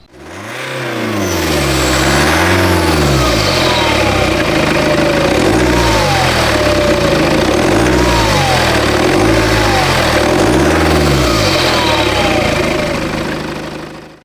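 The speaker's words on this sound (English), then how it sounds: "I'll give you a little sound sample" A BMW 320d diesel engine fitted with an aFe Momentum GT Pro cold air intake, revving up and dropping back in repeated swells over a steady idle, loud and close with no talking.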